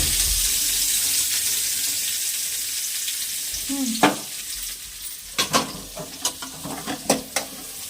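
Onions sizzle steadily in hot oil in a pan, a close, even hiss that fades back as a spoon or spatula knocks and scrapes in several sharp bursts.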